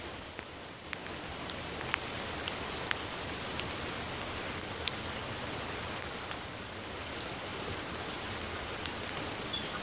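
Rain falling outdoors as a steady soft hiss with scattered light drop ticks, fairly faint and continuous throughout, with no voices.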